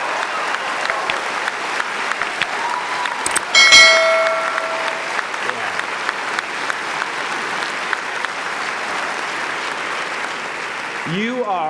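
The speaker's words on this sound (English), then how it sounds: "give yourself a round of applause, please." Sustained applause from a large ceremony audience, a broad steady clatter of clapping lasting the whole stretch, with a brief ringing bell-like tone partway through and a voice rising near the end.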